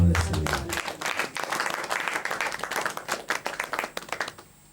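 A church congregation bursts into steady, loud clapping and applause that continues for several seconds and then tapers off, with no talk over it.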